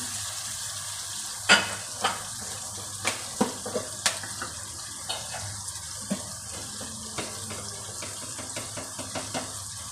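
A little water poured into a hot pan of mixed vegetables and green chillies sets off a close, steady sizzle, with scattered sharp clicks and scrapes of stirring and no talk.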